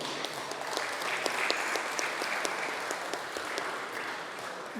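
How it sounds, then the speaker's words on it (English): Audience applause for a discussion panel on the future of money, cash, open banking and stablecoins at BFA 2025. Steady, moderately sized clapping runs for about five seconds, with individual claps standing out near the front. "Please, ladies and gentlemen, clap for this amazing panel."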